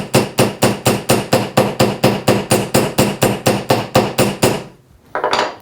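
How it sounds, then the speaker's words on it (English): A goldsmith's hammer with a chisel point strikes a copper strip in a steady run of about twenty sharp, ringing metallic blows, close and loud, ending with a short pause and a final lighter scrape. "you can do exactly the same with the Goldsmith hammer, because we've got this nice little chisel point on it here"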